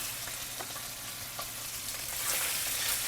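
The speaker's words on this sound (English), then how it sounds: "I'm going to add the chicken and the herbs. So these are skinless. So in the pan they go." Skinless chicken pieces and herbs hit a pan of garlic-flavored oil, giving a loud, steady close sizzle with crackling pops that grows slightly stronger toward the end.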